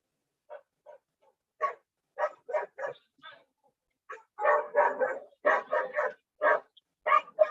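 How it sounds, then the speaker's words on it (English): A dog barks repeatedly during an online meeting, sharp close barks coming in irregular bursts that grow louder and denser toward the end, with no talk over them. "Sorry about the dog."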